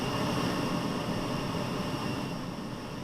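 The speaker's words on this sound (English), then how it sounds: "They've done such a good job with the sound on this airplane." Airbus A32NX jet airliner in Microsoft Flight Simulator on a Dublin to Heathrow flight, a steady broadband engine roar and rumble filling the clip, loud and constant, easing slightly near the end.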